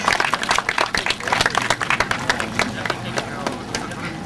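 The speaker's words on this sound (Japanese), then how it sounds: "今一度大きな拍手をお願いいたします。" Crowd applause at a race awards ceremony, with dense, steady clapping throughout, moderately loud, with voices mixed faintly underneath.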